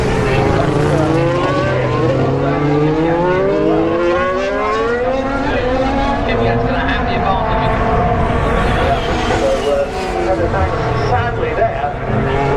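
2019 Formula 1 race cars scream past trackside at Turn 11, their loud engine whines rising and falling in overlapping sweeps as they approach and pass, under a continuous trackside commentary voice.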